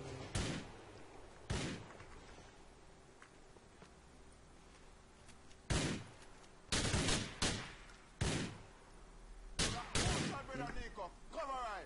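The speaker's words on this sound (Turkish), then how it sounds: "Pencereden vurdum." Gunfire in GTA IV: loud, sharp gunshots, first singly and then in quick clusters, cracking over a low game background, with some talk between the shots.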